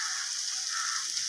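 Spice paste for rohu fish kalia frying in a pan, a steady, soft high crackling sizzle with no pauses, heard on its own without talk.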